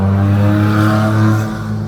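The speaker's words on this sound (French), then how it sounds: "Ça va la moto là?" A motorcycle roars past close by, a loud steady engine drone that swells and then begins to fade.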